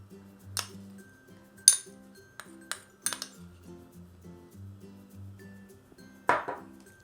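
A utensil clinks against a container while preservative is stirred into homemade body lotion, giving irregular light taps and a few sharper ringing knocks over a quiet, steady background.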